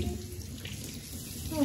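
Running water from a tap rinsing soap off a baby during a bath, a steady close splashing wash that continues without pause, with a faint voice underneath.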